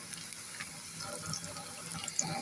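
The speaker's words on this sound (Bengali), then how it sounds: "পানি দিয়ে দেব মশলা কষানোর জন্য" Water running steadily from a tap or being poured into a cooking pot of spices and paste for beef bhuna, a soft, continuous close splashing trickle with no talk.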